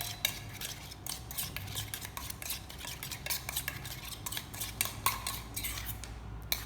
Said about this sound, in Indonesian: Sampai dia aduk-aduk ya sampai dia mekar.